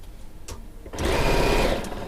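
A sewing machine stitches a 1/4 inch seam on a star quilt block, opening with a couple of short taps and then running in one steady, close burst of about a second before easing off.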